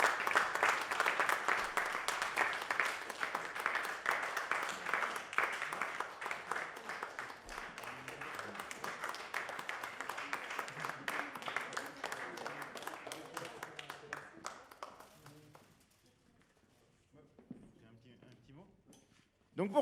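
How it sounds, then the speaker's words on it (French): Audience applause after a percussion concert, dense crowd clapping that thins into scattered claps and fades to near silence, with brief voices at the end. "applaudissez-les fort chez vous, le plus fort possible"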